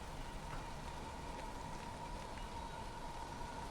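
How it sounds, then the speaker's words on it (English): Steady rain patters in the survival game Valheim, a dense, even hiss of falling drops heard softly and continuously without any voices. "Fuck off, rain."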